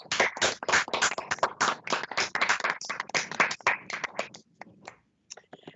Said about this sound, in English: give you a hearty round of applause